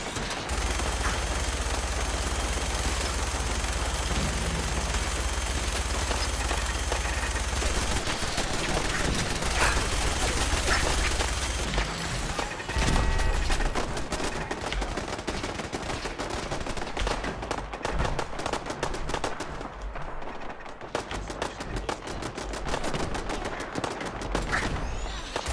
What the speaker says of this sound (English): He runs in front of a minigun.